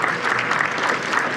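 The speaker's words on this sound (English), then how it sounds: "Please give them a round of applause." An outdoor crowd claps for sponsors at a community walk event, dense continuous applause close and loud for a short burst.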